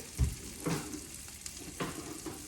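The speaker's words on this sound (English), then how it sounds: "And we're gonna let that saute" Asparagus sautéing in warm oil in a pan, a soft steady sizzle with a few louder clatters of stirring near the start and again later, no voices.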